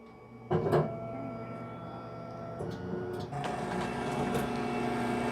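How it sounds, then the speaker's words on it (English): A K40 CO2 laser cutter starts up in a workshop, with a steady fan and motor hum, a brief clunk near the start and another shift partway through as the running noise grows slightly louder. "turn on the laser cutter."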